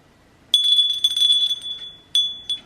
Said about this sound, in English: an Avon bell.